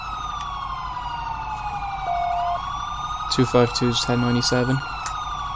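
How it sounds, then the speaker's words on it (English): Police car sirens in the GTA V roleplay video game wail and sweep loudly, then give way to sharp, clipped yelp bursts near the end, while a voice reads out radio codes over them. "Let's grab sirens, guys."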